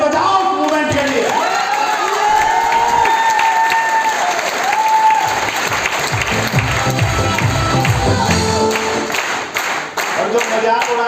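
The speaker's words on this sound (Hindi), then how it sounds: "एक बार कल्पना करो और ताली बजाओ मूवमेंट के लिए" Audience at a training seminar claps loudly and steadily, a dense crowd applause with scattered cheers and whoops, a voice speaking over it at times, continuing throughout.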